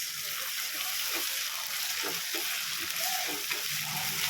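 Ginger garlic paste fries in a pan for white upma, giving a steady, close sizzle with occasional stirring clicks and no talking.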